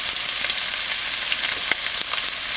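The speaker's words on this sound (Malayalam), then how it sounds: "നല്ലപോലെ ഫ്രൈ ചെയ്യുക." Carrots and other vegetables with salt frying in a pan for chicken fried rice, a steady bright sizzle with scattered crackles and pops, close and loud throughout with no talking.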